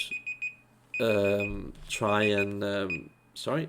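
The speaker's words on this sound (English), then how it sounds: "that's my alarm." An alarm beeps in short high tones near the start and continues faintly beneath someone speaking loudly.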